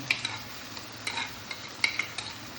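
Ginger, garlic and radish paste hits a hot pan for mustard greens saag, giving a steady low sizzle with scattered sharp stirring clinks and scrapes, close and moderately quiet.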